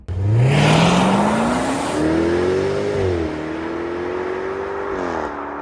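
Jaguar F-Type R P450 engine revs loud and close, pitch climbing steadily through the rev before easing back and holding a steady, throaty drone; no voices.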